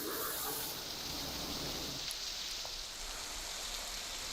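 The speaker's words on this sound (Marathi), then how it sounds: "रायगड जिल्ह्यात मुसळधार पाऊस कोसळतोय." Heavy monsoon rain pours down in Raigad district, Maharashtra, a steady broadband hiss of falling water that stays dense and even throughout, with no voices.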